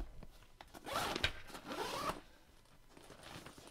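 A zipper on a Nomatic Cube Pack bag is pulled open close to the microphone in two quick raspy strokes, then the sound settles into quiet handling.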